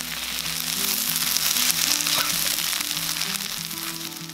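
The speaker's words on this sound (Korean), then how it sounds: "어묵이 색깔나게 볶는다. 볶는 중간에 참기름 2스푼, 부드러움과 고소한 향기를 더하고" Fish cakes stir-frying in a pan with sesame oil give a loud, steady sizzle and crackle, with brief stirring scrapes and no talk over it.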